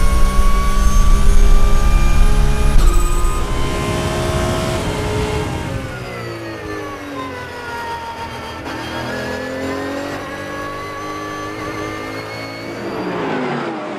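Lamborghini Super Trofeo and Porsche race cars roll off a flying start at Paul Ricard, Le Castellet, a loud, dense engine roar with rising and falling whines as the pack accelerates past and recedes.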